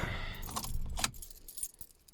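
A bunch of house keys jangles close by while a car is being locked, several bright metallic clinks and rattles in quick succession, then quieter scattered jingles trailing off.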